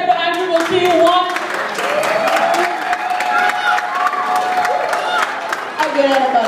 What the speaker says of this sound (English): By round of applause, let's hear it for Andrew.